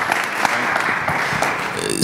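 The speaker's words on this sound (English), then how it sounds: "Round of applause." Brief, dense applause rises from the audience at a startup bootstrapping and early-stage investing panel, a continuous clatter of hands with a voice faintly underneath.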